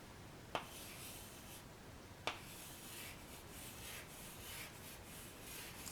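Pen or pencil writing letters by hand on paper, a faint continuous scratching with two small taps, quiet and close.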